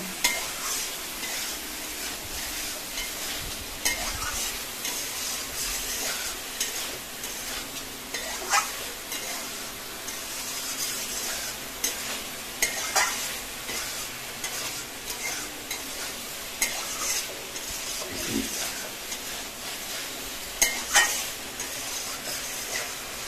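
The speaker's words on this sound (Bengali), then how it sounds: "সয়াবিন আলু মশলার সঙ্গে একসঙ্গে কষিয়ে নেব।" Soybean chunks and potato are stir-fried with spices in a pan, a continuous soft sizzle with occasional scrapes and clicks of a spatula against the pan, fairly quiet and without talk.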